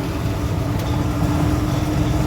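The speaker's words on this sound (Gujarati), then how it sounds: "ટ્રેન જાય છે આપણી આગળ." A steady, low mechanical rumble of a train going past nearby while walking beside the tracks, a continuous drone with no distinct breaks.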